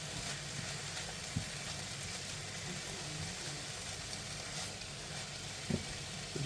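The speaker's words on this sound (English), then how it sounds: "So what I'll do is I'll keep stirring this" Beef keema with spinach fries in a pan with a steady, even sizzle, broken by a few faint scrapes and taps as it is stirred.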